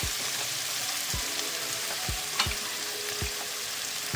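Ginger paste sizzling in a frying pan for a potato curry, a steady loud hiss of hot oil with periodic low thumps of a spatula stirring roughly once a second.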